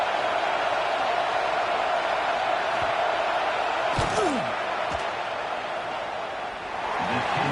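Loud, continuous football stadium crowd roaring and yelling through a field goal attempt, trying to rattle the kicker, with a few sharp thuds and a faint voice in the steady wall of noise.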